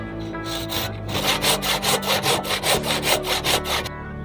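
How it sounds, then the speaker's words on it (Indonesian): Hand saw cutting through a Duranta bonsai stem: a steady run of about a dozen rhythmic, rasping back-and-forth strokes, close and fairly loud, with no talking. "setelah pemotongannya harus kita lakukan, kita gergaji"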